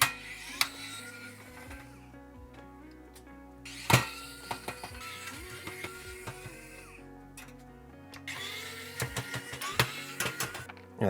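Screws being backed out of the metal shield on a Sega Genesis 2 console, heard as scattered close clicks, ticks and scraping taps with brief pauses between them, plus a few sharper knocks.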